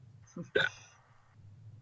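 A single faint hiccup sounds, a small catch followed by a sharper voiced yelp, with quiet room noise around it.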